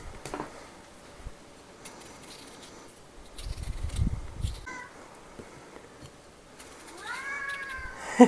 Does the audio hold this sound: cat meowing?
yes